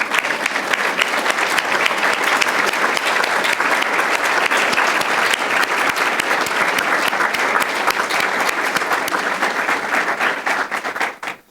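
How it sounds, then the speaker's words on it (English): A large audience at a Cook County economic development gathering gives a long, dense round of applause, steady and loud throughout before tapering off abruptly at the end. "and a round of applause"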